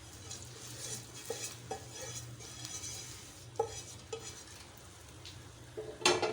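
Fried dry fruits being stirred into simmering milk in a pan for sheer khurma, with soft scraping and several light clinks of a spoon against the pot over a steady low bubbling.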